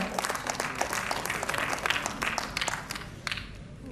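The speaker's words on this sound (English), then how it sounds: "A round of applause for her" An audience applauds an award recipient at a ceremony stage, a steady wash of many hands clapping at moderate volume that tapers slightly toward the end.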